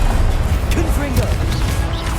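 A Confringo blasting-spell explosion in the video game Hogwarts Legacy: short crashing bursts under a raised voice calling out the spell.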